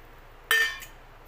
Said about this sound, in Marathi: तर आता आपण ह्या मिरच्या टाकूया कढईमध्ये